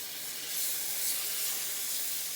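Minced garlic and Better Than Bouillon garlic base sizzle steadily in a hot pan while a coconut curry chicken cooks, a soft continuous hiss with no voices.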